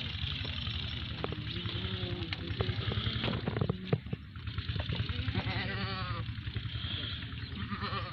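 Goats bleat repeatedly at a livestock gathering, wavering cries over a constant hum of engine and crowd noise.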